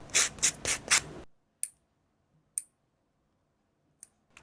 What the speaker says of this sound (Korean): 그냥 샌딩 블록으로 살짝 표면 정리만 하고